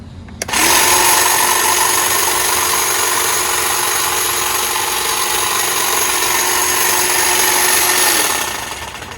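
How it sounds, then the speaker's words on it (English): A Dewalt cordless hedge trimmer motor runs at a steady, loud, rough whine for about eight seconds, then winds down at the end with no brake. "One thing I don't like about the Dewalt too is it seems a little bit louder, a little bit rougher on that motor there."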